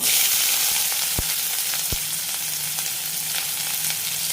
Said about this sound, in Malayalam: ഇതിലേക്ക് ഇരുപതോളം ചെറിയ ഉള്ളി അരിഞ്ഞതിടാം